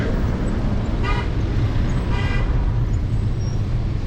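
A car horn sounds twice in short bursts through steady winter city traffic on a road near a crowded bus stop, with the engine and road rumble continuing under it.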